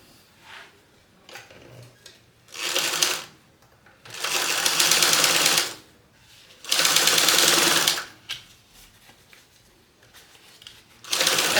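A sewing machine stitches a fringe clutch closed, running in rapid mechanical bursts of a few seconds each, separated by quiet pauses, close and fairly loud.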